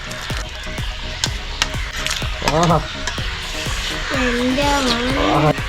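Prawns are stirred into boiling gravy for a Kerala prawn roast, giving a close sizzle and bubbling with clinks and scrapes of the spoon against the pan while a person talks.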